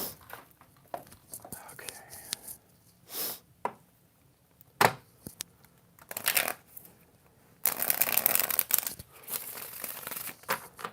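A Millennium Thoth tarot deck is shuffled in close, crisp bursts of riffling and snapping card sounds, separated by pauses with soft handling noise and quiet whispered talk.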